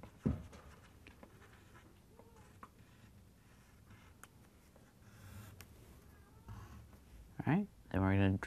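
A pencil shades in coffee on paper in a drawing of a coffee maker, giving a soft, steady scratchy rasp with short strokes, and a few brief voice-like sounds near the end.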